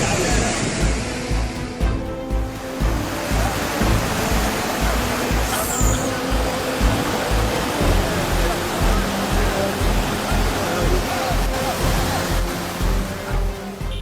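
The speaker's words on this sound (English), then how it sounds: "In Oman, a wadi fills in minutes." Flash-flood water rushing through a wadi in Oman, a loud, continuous roar of churning water with a deep rumbling undertone, heard close and unbroken for the whole stretch.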